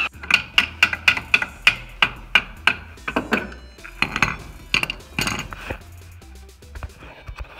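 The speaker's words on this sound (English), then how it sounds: "It's a pinch assembly, so we'll just take that bolt out" Pinch bolt coming out of a control arm on a Volkswagen B5 Passat wagon: close, sharp metallic clinks and taps in a quick regular series, then more scattered knocks and rattles.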